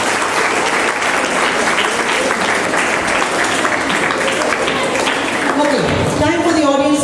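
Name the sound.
audience applause for the red house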